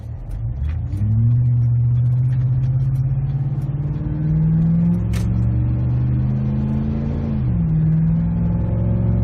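Exhaust of a Ford F-150 pickup with a Magnaflow cat-back exhaust, heard inside the cab: a deep steady drone that swells as the engine revs up and settles back, loud and continuous.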